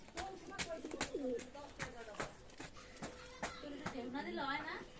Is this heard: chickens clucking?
no